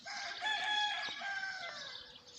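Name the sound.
rooster crowing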